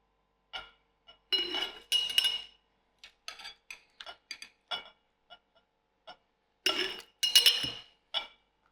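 Whole chillies in oil being packed into a sterilized glass bottle, giving scattered clinks and knocks of glass with bursts of clattering, quiet gaps between them, close and with no talk.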